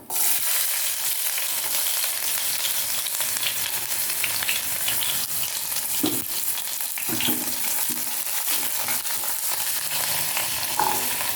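Shallots, grated coconut and curry leaves fry with popping mustard seeds in hot coconut oil, a steady close crackling sizzle with occasional stirring clicks throughout, no voices.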